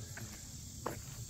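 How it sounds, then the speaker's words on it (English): Cicadas buzz outdoors in a park on a hot summer day, a steady, faint high drone with no one speaking and a few soft rustles beneath it. "bugs? Those are cicadas."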